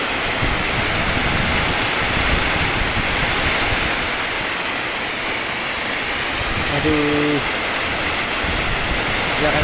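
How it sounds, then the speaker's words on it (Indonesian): Heavy rain pours and strong wind roars steadily during a storm in Melingkung, Jambi, a dense, loud wash of noise throughout, with a brief exclamation from a person near the end. "Angin kencang, hujan deras."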